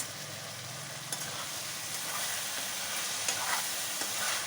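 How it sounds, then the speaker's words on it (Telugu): Drumstick curry cooking in a pan, stirred with a spoon and lid lifted: a steady bubbling sizzle throughout with a few light scraping knocks, no voices. "మళ్ళీ మూత పెట్టేసి మధ్య మధ్య కదుపుతూ ఉండాలి"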